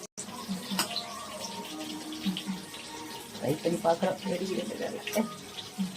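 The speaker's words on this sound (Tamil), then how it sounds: "ஷாலோ ஃப்ரை பண்ணுங்க, ஆனா டப்பு டப்புன்னு வெடிக்குது" Hot oil sizzles and crackles with scattered pops as squid-stuffed potatoes shallow-fry nearby, with a voice murmuring underneath.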